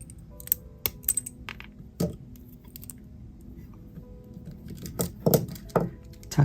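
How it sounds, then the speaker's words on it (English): Excess jewelry wire snipped with cutters while making earrings: a few sharp, close clicks and small metallic snaps scattered among soft handling noises, quiet and without talk. "Let me cut off the excess wire."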